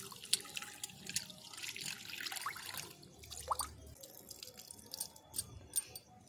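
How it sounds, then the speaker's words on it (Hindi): Raw everyday rice being rubbed and washed by hand in water on a home rooftop, with soft drips, splashes and a faint trickle in an uneven rhythm, close by and quiet. "तो अच्छी तरीके से चावल को रगड़ के धो लेंगे।"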